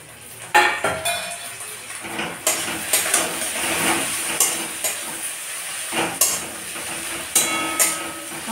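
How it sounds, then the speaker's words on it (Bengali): Chopped tomatoes fry in a pan for a prawn curry, a soft steady sizzle under frequent ladle clinks and scrapes on metal, close and fairly loud. "টমেটোটা ভাজাবো।"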